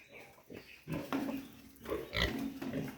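Native pigs in a piggery grunt and snort in short, irregular bursts close by, with a murmur of farm background between the calls.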